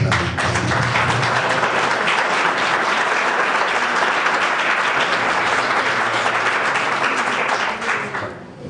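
A conference audience applauds a parliamentarian with loud, dense, sustained clapping that fills the room evenly and then tapers off at the very end.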